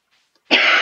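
A single harsh cough bursts out after a run, loud and close, following near silence and lasting to the end.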